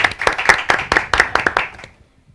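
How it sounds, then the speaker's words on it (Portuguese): A small group claps in a loose, uneven rhythm, roughly a dozen distinct close claps over about two seconds before stopping abruptly into silence. "merece palmas"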